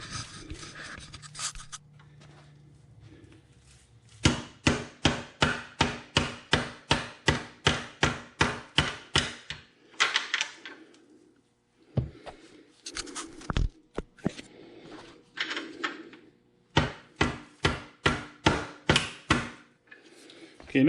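Repeated metal hammer blows drive a swingarm bolt through a Honda 400EX ATV frame, struck through a socket held over the bolt end; sharp evenly spaced impacts come in bursts with short pauses, close and loud.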